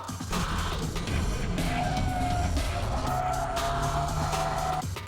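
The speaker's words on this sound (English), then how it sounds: "Keiichi Tsuchiya drifts using 6 different drift techniques." A car drifts with its tires squealing and skidding continuously over a loud, droning engine, the screech holding steady and close throughout with no voices.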